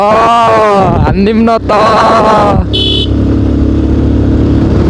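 A Honda NS motorcycle engine revving in a race, loud and close, with rising and falling harmonic whine for the first few seconds, then settling into a steady low drone, with voices in the background.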